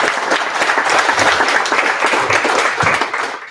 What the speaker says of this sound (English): give an amazing round of applause to our amazing